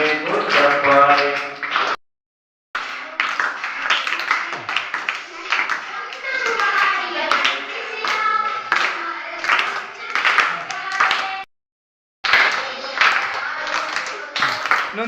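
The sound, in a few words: audience clapping in thanks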